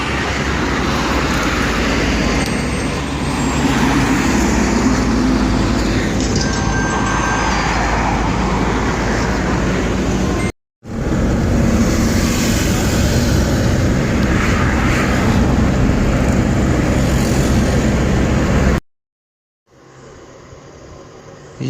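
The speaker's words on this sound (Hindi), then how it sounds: "अब गाड़ी में बैठने लगे जी, हम निकलने लगे जी मीरपुर की तरफ।" A car on the road toward Mirpur, a steady loud engine and road roar from inside the vehicle, continuous with a brief cutoff, then quieter running.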